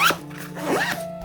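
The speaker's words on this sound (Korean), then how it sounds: "마지막으로 중간 지퍼를 닫아주면 이렇게 부피가 확 줄어들어요" A zipper on a vented storage pouch drawn closed in one quick, close pull, with a bright rasping slide and a brief tug at the end.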